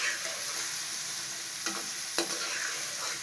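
Tinda (round gourd) pieces frying in oil in a pan for a spiced vegetable dish, a continuous close sizzle broken by a few sharp stirring scrapes, with no talking.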